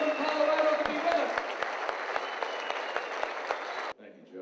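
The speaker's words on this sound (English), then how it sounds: "Give him a round of applause." An audience at an Albanian American civic league event gives sustained, dense applause with a steady rhythmic clap standing out, and it stops abruptly near the end.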